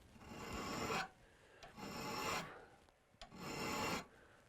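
A hand file sharpens the edge of a tool in three even, rasping strokes with short pauses between them, close and clear, with no voices.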